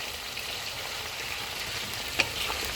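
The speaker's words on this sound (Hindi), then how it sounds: "इसको हम 2 मिनट तक भूनेंगे।" Chicken fries with ginger garlic paste in a karahi, giving a dense steady sizzle with a single sharp spatter pop partway through, close and moderately loud with no talking.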